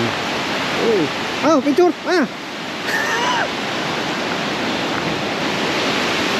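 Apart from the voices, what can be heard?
Shannon Falls waterfall, Whistler BC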